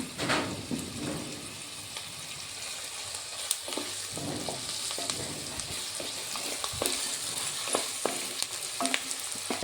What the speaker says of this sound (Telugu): ఎర్రగడ్డలు ఎర్రగా రావడానికి కొద్దిగా సాల్ట్ వేస్తున్నా